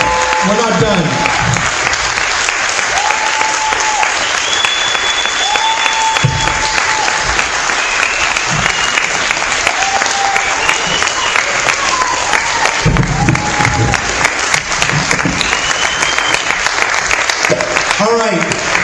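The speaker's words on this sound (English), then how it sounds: "let's give a larger, more loud and thunderous round of applause for all of the panelists this evening" An audience at an evening panel forum on Palestine in Fresno gives the panelists a long, loud round of applause and cheering that fills the room, with a few voices calling out over the sustained clapping.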